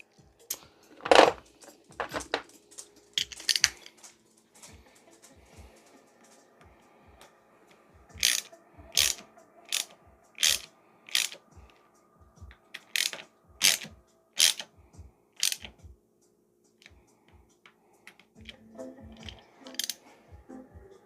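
Ratcheting clicks and metallic ticks come from a tool tightening bolts on a Zooz bike's brakes. The sharp clicks are close, arriving in separate clusters with quiet gaps between them, and no talk is heard.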